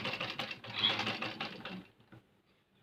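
A sewing machine rapidly stitches the fabric of a D-shaped frock, giving a close, loud, steady whirring run of stitches for about two seconds before falling quiet.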